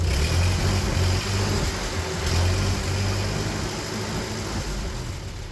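The engine of an old Ford tractor, revived after years left out in the rain, idles with a low, steady, chugging rumble. It is loud and close with a slightly uneven pulse, and water drips from the exhaust.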